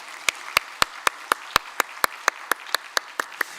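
Steady, evenly spaced hand claps ring out close and crisp, about four per second, as a church congregation welcomes new families during a Sunday worship service.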